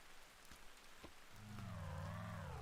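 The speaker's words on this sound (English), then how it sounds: "The rain sounds are beautiful." Soft rain patters steadily in the Journey game world, with a few scattered droplet ticks, while a low warbling whale-like tone swells in and sustains over the falling rain.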